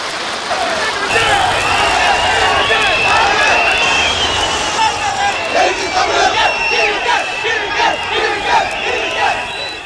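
A large political crowd cheers and roars in celebration as Thalapathy Vijay's path to becoming chief minister opens, a loud continuous wall of voices with shouts rising above it throughout.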